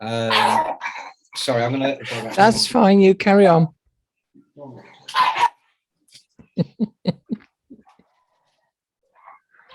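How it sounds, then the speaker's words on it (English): Three small dogs and an old Springer Spaniel yap in a quick burst of sharp barks after people talk indoors, coming in a rapid cluster at moderate distance. "my dogs are barking, so I think someone's about to come home if you hear a dog barking."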